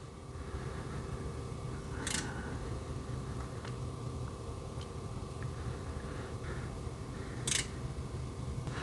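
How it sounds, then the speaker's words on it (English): Faint, sparse relay clicks from a UNI-T UPO1204 four-channel digital oscilloscope during self-calibration, with a few sharp ticks spaced seconds apart over a steady low fan hum. "You can hear the relays sort of clicking in the background"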